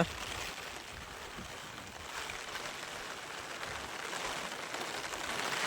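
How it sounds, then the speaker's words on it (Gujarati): Steady rain falling outdoors in a village, a soft, even hiss of drops that holds constant and swells slightly toward the end, heard from nearby without voices. "જોવો મિત્રો વરસાદ અત્યારે ચાલુ જ છે"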